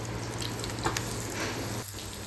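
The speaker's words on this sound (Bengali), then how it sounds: "এই প্রন পাকোড়াগুলো এদিকে ভাজা হতে থাকুক" Prawn pakoras fry in hot oil, a soft, even sizzle and crackle held close and steady throughout with a few small pops.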